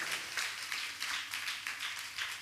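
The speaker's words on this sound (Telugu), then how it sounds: "గట్టిగా చప్పట్లు కొట్టండి ఒకసారి" A church congregation claps together in a steady rhythm of about eight or nine sharp, even beats, moderately close, with no talking over it.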